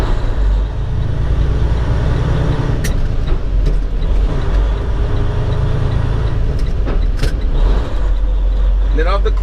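Heavy truck engine droning loudly and steadily from inside the cab while the driver upshifts gears, with low rumble throughout and brief clicks and air-brake hiss, under a constant road noise bed; people talk over it.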